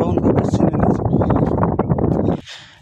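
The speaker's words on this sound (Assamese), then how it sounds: "বতাহ কিন্তু পুৰা দি আছে" Strong outdoor wind buffets the microphone in a steady, loud roar that runs under continuous talk, then eases briefly at the end.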